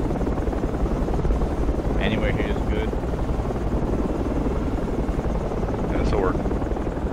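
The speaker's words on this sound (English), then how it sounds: "I'll send the chopper back for you." A helicopter in the tactical shooter game Project Reality drones with a loud, steady rotor thrum throughout, while people speak briefly over it on radio.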